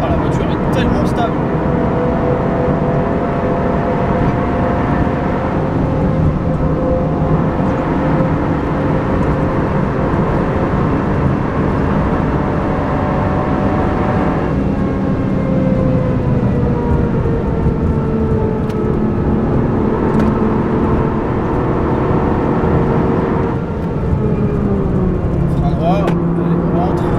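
A modified Toyota Yaris GR track car drives hard around the Nürburgring, its engine droning loud and steady from inside the cabin with rising and falling revs through gear changes, while someone talks over it.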